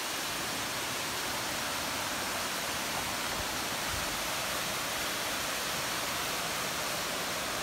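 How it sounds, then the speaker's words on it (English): Bully Brook, a stream on Vermont's Long Trail, rushes in a steady, dense hiss of flowing water, loud and close, with no voices. "coming on up to Bully Brook."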